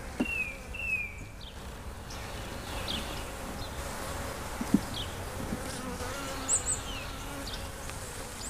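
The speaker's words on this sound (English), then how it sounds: "Piece that has honey and full of bees." Honeybees swarming over an open honey-filled frame in an 18-frame long hive during a May inspection, a dense close buzz with individual bees zipping past the microphone and faint handling noises.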